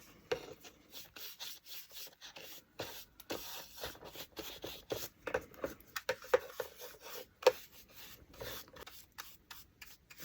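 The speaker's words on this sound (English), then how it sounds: "So I'm going to put clear wax. I'm using my Fusion clear wax." Fusion clear wax is worked onto a piece of furniture with close, uneven rubbing and scraping strokes in short bursts, fairly quiet, with no voices.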